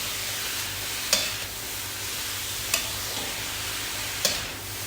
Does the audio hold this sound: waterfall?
no